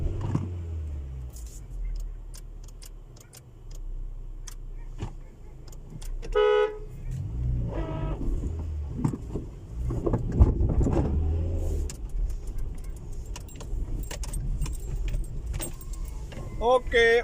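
A car straining while stuck on a potholed ramp, its engine revving unevenly beneath clattering jangles and short horn toots, with people talking over the commotion.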